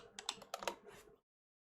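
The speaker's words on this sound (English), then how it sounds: "is that a typewriter?" Rapid typing on a keyboard with a clacky, typewriter-like sound, a quick burst of close keystrokes lasting about a second before silence.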